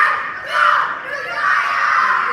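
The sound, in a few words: teammates cheering at obstacle course competition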